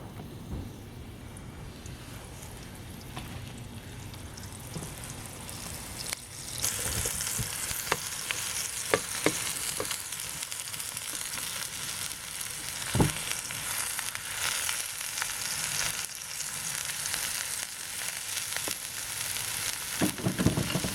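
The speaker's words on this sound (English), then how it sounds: "I put a little bit oil in it and turn on high heat. Okay, I'm going to pan fry it." Portobello mushrooms fry in a little oil in a pan over high heat, giving a steady close sizzle that grows louder partway through, with occasional sharp pops and stirring scrapes.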